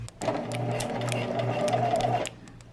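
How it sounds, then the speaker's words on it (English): A sewing machine running a straight stitch on a fabric market bag, one continuous mechanical hum and buzz lasting about two seconds before stopping, close and clear. "I'm gonna set my machine to straight stitch and then we'll finish this up"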